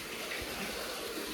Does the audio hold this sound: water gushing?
yes